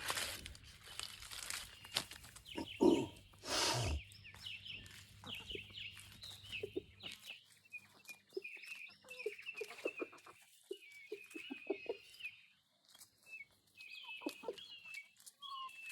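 Chickens cluck softly in short, scattered bursts while pecking cabbage leaves, preceded by some crinkling and handling noise.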